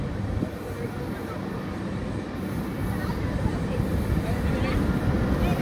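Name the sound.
LHB passenger train running through a tunnel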